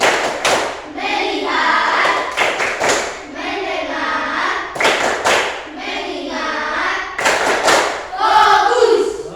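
A classroom group claps in short rhythmic bursts between chanted Indonesian call-and-response counting, loud and close, the pattern repeating several times.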